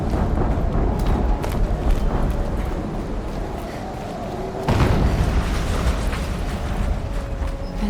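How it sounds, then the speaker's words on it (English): Heavy rumbling explosions and mechanical clatter from machines in the game Horizon form a dense, loud roar, with a fresh blast striking partway through. "An explosion."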